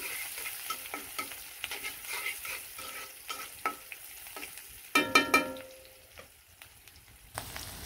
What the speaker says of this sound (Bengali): আর গরম তেলে কিন্তু পেঁয়াজ দিয়ে দিলাম, কুচি কুচি করা পেঁয়াজগুলো দিয়ে দিলাম, দিয়ে ভালো করে নাড়াচাড়া দিয়ে দিলাম।